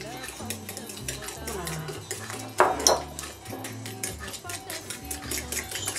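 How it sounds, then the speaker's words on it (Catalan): Egg yolks are beaten with sugar and parsley in a bowl, a busy clatter of utensil against the bowl under faint background music, with one louder clink partway through. "Ara haurem de batre els rovells dels ous, afegir-hi 4 cullerades de sucre i el julivert."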